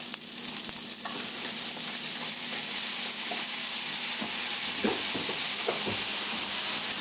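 Spam fried rice sizzles loudly in a hot pan as soy sauce goes in, a dense steady crackling hiss with occasional clicks and scrapes of tossing, heard up close with no talking.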